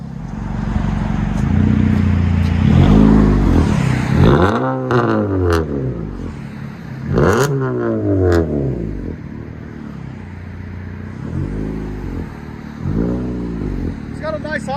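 A 2019 Honda Civic LX 2.0L with a Total Flow resonator exhaust rumbles close by as it backs up. Its engine note rises and falls in several sweeping revs over a steady idle, with faint voices in the background.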